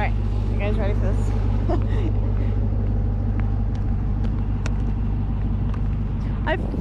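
A 2021 Ram Rebel TRX truck engine rumbles with a steady, deep, continuous drone heard from inside the cab, while people talk over it.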